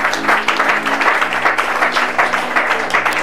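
Crowd applause at a Bible teaching on Exodus, a dense, steady wash of many hands clapping, loud and continuous with a faint voice underneath.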